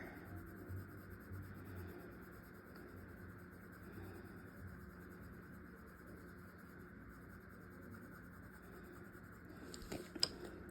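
Prismacolor colored pencil shading across heavy-grain paper, a soft continuous scratchy rasp that runs steadily throughout, fairly quiet, with a few sharper ticks near the end.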